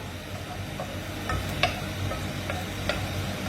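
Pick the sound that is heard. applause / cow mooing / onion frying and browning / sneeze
onion frying and browning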